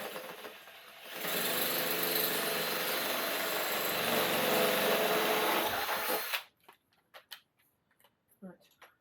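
A power drill with an 8 mm bit bores all the way through a table leg while raising a table in a Swift Rio 340 motorhome, a loud steady whirring grind for about five seconds that stops abruptly, followed by clicks and handling noises.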